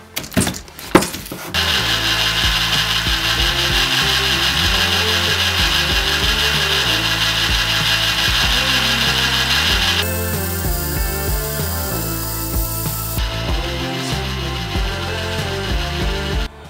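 A Tekhmann belt sander runs at low speed with a steady, close mechanical hum and rough abrasive rubbing against wood, continuing without pause and shifting tone partway through.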